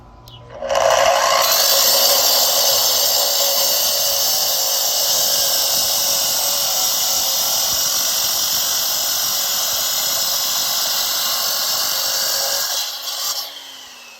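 An inexpensive electric concrete saw with a diamond blade cutting, a loud, steady high-pitched whine that runs continuously for about twelve seconds, then winds down.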